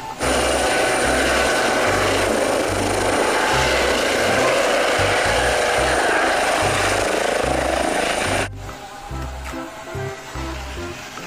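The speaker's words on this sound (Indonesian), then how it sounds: "Ada helikopter." A loud, steady helicopter-like engine drone with a rhythmic low thump, running continuously and then dropping to a quieter rumble near the end.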